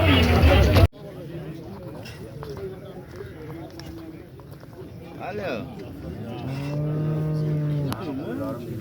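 A cow gives a long, loud low moo near the end, amid voices and general outdoor bustle at a livestock market.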